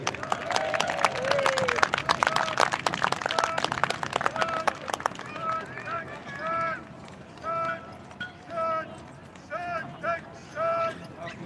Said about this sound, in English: Can you give a big round of applause for our first performance today, please, the Roman Army?